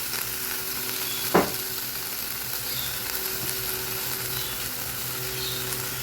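Spring onions sizzle steadily in hot olive oil, a loud, even crackling hiss that fills the whole stretch, with a single sharp clink of a utensil early on.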